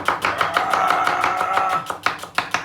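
Knife chopping onions finely on a board, a steady run of quick, crisp thuds repeating close by and fairly loud, with no talking.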